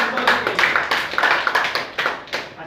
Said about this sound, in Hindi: चलिए एक बार बहुत शानदार तालियां